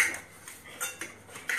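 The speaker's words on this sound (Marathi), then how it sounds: "तूप आपण आता इकडे ह्या भांड्याला लावून घेऊया" Metal utensils clink and scrape against a cake tin while it is greased with ghee for an eggless pineapple cake, a few sharp light clatters spaced irregularly and close by, with no talk.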